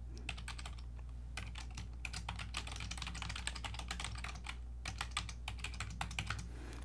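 Fingers typing a sign-in ID and password on a computer keyboard, close rapid bursts of key clicks with brief pauses between runs, alone without talk.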